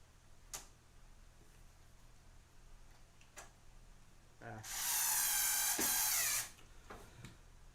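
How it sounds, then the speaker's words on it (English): A cordless lithium-ion power screwdriver drives screws into a PC case, with a loud, close whirring burst of about two seconds between scattered light ticks and clicks of parts being handled. "I love my power screwdriver. You gotta get the lithium ion one though."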